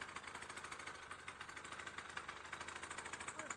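A moped engine idles steadily with a fast, even putter, running close by without interruption.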